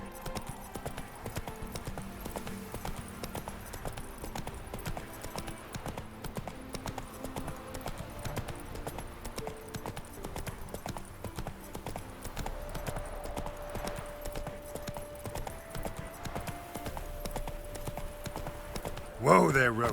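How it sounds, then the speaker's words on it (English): Hooves of a horse clip-clop steadily at a riding pace in The Witcher 3: Wild Hunt – Hearts of Stone on PlayStation 5, mixed with game music and a voice speaking over the ride. "Whoa there, Roach"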